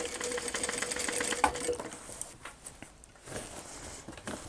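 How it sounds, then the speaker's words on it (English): A sewing machine runs quietly and steadily while sewing the lining of a cross-body bag, with light clicks and handling noise throughout. "So now we just want to sew about 1 inch on each side of the lining"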